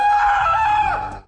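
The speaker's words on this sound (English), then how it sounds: "it's a jump scare of Dean from Supernatural screaming" A loud, piercing scream from the character Dean of Supernatural, used as a jump-scare donation alert, one long strained shriek that holds steady then cuts off abruptly.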